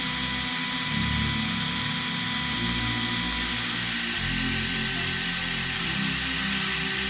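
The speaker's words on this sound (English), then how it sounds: "I attach it to a drill and use sandpaper to clean off the built-up residue" A drill whirs steadily as a soldering iron tip spins against sandpaper to clean off built-up residue, a continuous motor drone with grinding hiss that shifts in pitch a few times.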